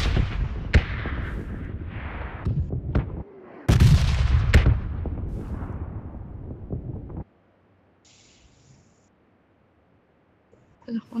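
Explosions and gunfire in a bombing zone of a video game, a burst of sharp impacts and a heavy loud blast in the first seven seconds with voices, then near silence and a faint return at the end.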